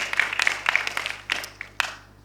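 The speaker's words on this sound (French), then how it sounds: "je vous prie d'applaudir nos invités avec des applaudissements bien nourris" Scattered clapping from a university audience at a leadership talk event at the Université d'Abomey-Calavi, heard as irregular bursts of hand claps that rise and thin out over a couple of seconds before fading.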